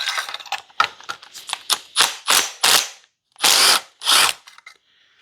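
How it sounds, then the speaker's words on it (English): A hand ratchet fitted with a 14 mm spark plug socket clicks in quick bursts while removing spark plugs from an engine. The loud, close clicking comes in bursts separated by short pauses, with no talk. "And now we take all the spark plug out and inspect them."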